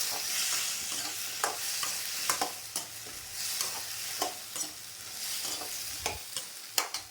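Onions and spices sautéed in a pan, a steady soft sizzle broken by repeated sharp scrapes and clacks of a spoon stirring against the metal, close and clear.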